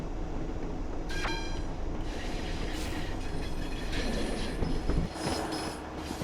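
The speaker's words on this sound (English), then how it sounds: "I love the flange squeal on the new Soundset" A TfW Class 150 Sprinter diesel train on the Cardiff City network in Train Sim World 6, high flange squeal over a steady rolling rumble and wheel noise, continuous and fairly loud.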